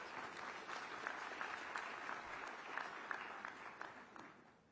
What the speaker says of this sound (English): A big round of applause for Mary and her effort.